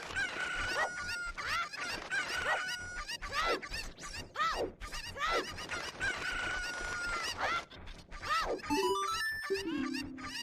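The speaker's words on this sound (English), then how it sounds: "So we have chickens." Several cucco chickens in Ocarina of Time squawk and cluck in repeated sweeping calls, loud and close, ending with a short rising chime of game tones.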